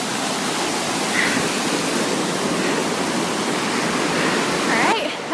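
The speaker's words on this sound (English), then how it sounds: "that was a real mountain stream going very fast" A fast mountain stream rushes at a backpacking trail water crossing, a loud, continuous, close roar of churning water that fills the whole clip.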